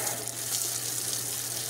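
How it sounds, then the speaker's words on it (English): Water from a hose pours steadily over an outdoor air conditioning unit, rinsing soapy cleaner off its coils; a continuous broadband splash and hiss, close and even throughout with no talking. "just run water on each side of the unit for roughly 5 minutes"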